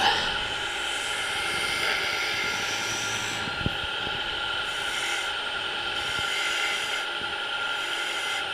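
A gouge rasps and scrapes steadily as it carves a wooden top hat shape, a close continuous rubbing texture broken by a few sharp taps.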